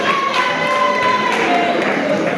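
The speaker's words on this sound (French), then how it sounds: "On a un applaudissement pour elle." Audience applause rings out for a woman receiving a Rising Star 2025 award trophy at a ceremony, a steady, dense wash of clapping holding evenly throughout with a faint tone running beneath.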